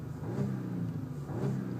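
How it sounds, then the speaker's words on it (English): A 2012 Audi A7 3.0T Quattro engine revs twice in quick succession, rising and falling in a mid-pitched, rumbling surge heard from inside the car, with no talk. "Very rev happy, this engine."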